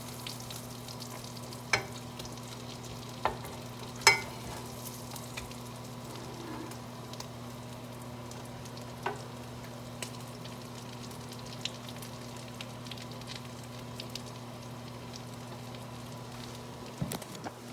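Spam slices fry in a pan until crispy golden brown, a quiet, continuous sizzle with scattered sharp pops and spatters, under a low steady electrical hum.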